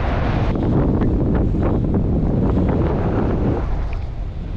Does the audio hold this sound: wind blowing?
yes